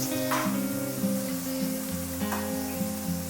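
Garlic sizzles steadily in hot oil in a pan while a Kerala-style rabbit roast is being cooked, a continuous close frying hiss with faint stirring scrapes and no talking.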